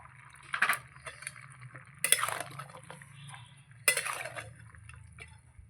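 Vegetables being stirred in a cooking pan for a spinach dish with fish head: three distinct bouts of scraping and clinking utensil against the pan, spaced a couple of seconds apart over a low steady background.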